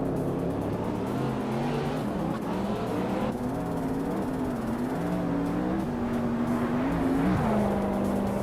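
A 2018 Chevrolet Camaro race car in a racing video game, its engine droning steadily and loudly throughout with shifting pitch as it accelerates and holds speed, other engines blending in close by.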